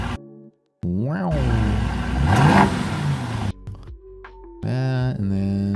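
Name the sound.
car engine revving, played from a video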